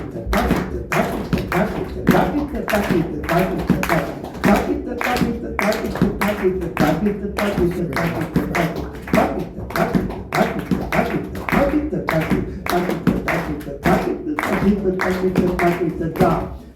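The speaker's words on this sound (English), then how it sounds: "So I count to 4, and we clap like" Guitar clinic audience at Manchester Music Mill clapping in time to a counted rhythm, sharp, regular claps of many hands sounding together in a steady pulse, with voices mixed underneath.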